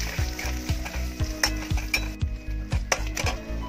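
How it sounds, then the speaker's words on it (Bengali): Chopped onions frying in a pan after cardamom and bay leaf, a loud close sizzle under repeated rhythmic scraping strokes of a spatula stirring them. "দিয়ে এটাকে আমি ভালো করে এবার একটু লাল লাল করে ভেজে নেব"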